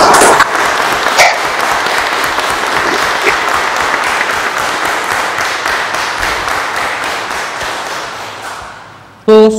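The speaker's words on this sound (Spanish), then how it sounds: "Aplaudamos vuestro logro." Loud, continuous applause fills a hall at a lawyers' swearing-in ceremony before the Supreme Court, holding steady for several seconds and then fading out, with a brief burst of another sound at the very end.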